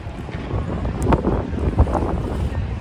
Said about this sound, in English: Sorry, it's so windy, I'm afraid it's gonna blow my tripod away.